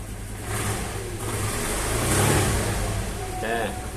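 A motorcycle engine revved during electrical troubleshooting, a steady mid-pitched engine hum that swells into a throttle blip, loud and close, with a brief voice near the end.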